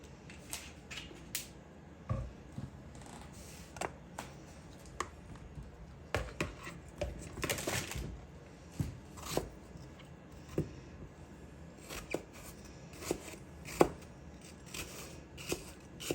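Apples being cut into thin slices for a homemade apple pie, sharp irregular knife taps and cuts on a board, fairly quiet and close, spaced a second or so apart.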